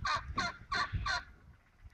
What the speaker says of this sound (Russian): Это индюк кричит